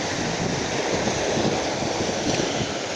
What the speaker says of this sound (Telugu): అలా రాళ్ళను తాకి కెరటాలు ఎగిసిపడుతుంటే